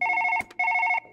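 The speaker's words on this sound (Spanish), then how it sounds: "ahí están llamando por teléfono" A telephone rings in Surgeon Simulator, giving two loud, close bursts of a trilling electronic bell separated by a short gap, with no one talking.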